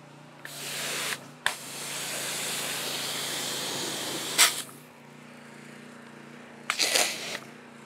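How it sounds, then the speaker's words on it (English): A pressure washer sprays water at a shop in a steady, close hiss lasting several seconds, broken by brief sharp bursts and a low mechanical hum underneath; no one talks. "here we go with the pressure washer"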